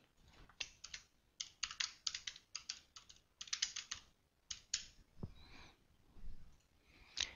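Quick bursts of typing on a computer keyboard, close and clear, with clustered key clicks separated by short pauses and a soft breath near the end.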